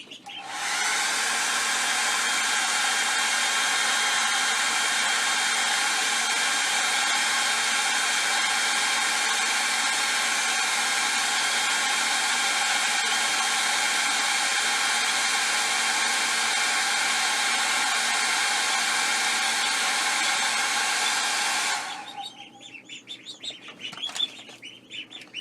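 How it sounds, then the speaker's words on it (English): A hair dryer blows steadily at close range over a painted wood duck carving, a loud unbroken whirring drone for about twenty seconds before it switches off, leaving faint handling noises. "Hair dryer again."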